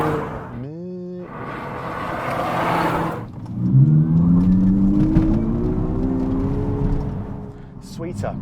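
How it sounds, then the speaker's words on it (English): The Abarth 600e Scorpionissima's simulated engine sound revs up smoothly, like a four-cylinder with an exhaust note, rising in pitch, with a whirring tone underneath and a short chime at the start. "reminiscent of a 4-cylinder engine with a sweet exhaust note"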